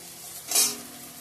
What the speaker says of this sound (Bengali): সবগুলোই ভেজে নিচ্ছি